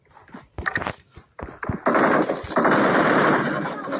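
Automatic gunfire in the battle royale game BGMI: scattered sharp shots at first, then a dense, loud, sustained burst of fire that runs to the end.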